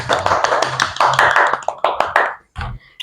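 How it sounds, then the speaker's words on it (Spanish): Applause from an audience welcoming a guest doctor onto a show, a brief burst of claps that fades out near the end, followed by a short spoken word. "pido un fuerte aplauso"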